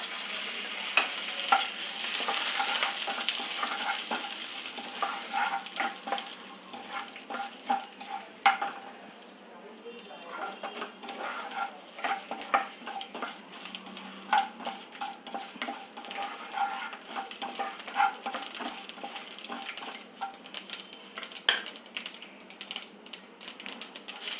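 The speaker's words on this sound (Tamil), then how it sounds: "கடுகு, கடுகு உளுந்து மட்டும்தான் போடுறேன்." Mustard seeds and urad dal sputter and sizzle in hot oil for tempering, making a steady crackle of rapid, irregular pops with occasional stirring, close up and fairly quiet.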